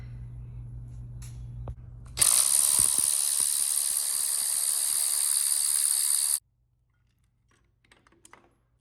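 Tools work on the rocker box of a 1995 Harley-Davidson Bad Boy Softail, with a few clicks followed by a loud, steady high-pitched whirr like an air-powered ratchet running for about four seconds, then silence with faint clinks.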